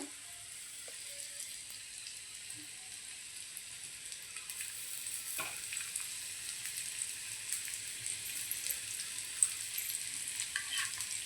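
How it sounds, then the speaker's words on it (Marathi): Karli fish frying in hot oil in a pan, Malvani style, a soft, even, hissing sizzle holding steady throughout with a few faint pops and clicks, moderately quiet and close, no speech. "आता आपण करली मासा सोडूया अलगत आपल्याला तेलामध्ये सोडायचं आहे"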